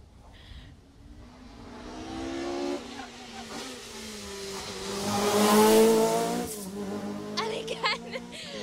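A rally car at the 2018 Jersey Rally sweeps through a corner, engine note rising and falling as it passes close by and peaks before fading, with commentary talking over it throughout.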